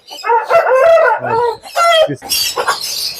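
A black Aseel rooster crows and calls up close, loud hoarse harmonic bursts in a few quick phrases with rough noisy breaks between them.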